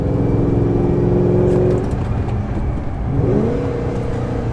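A Ford GT with a 5.4-liter supercharged V8 and six-speed manual accelerates hard, its loud close engine note climbing, dipping at a gear change, then rising again.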